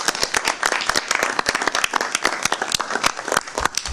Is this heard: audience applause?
yes